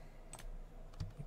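A couple of light computer keyboard key presses for a Control X cut shortcut, soft close clicks on a quiet background with no talking.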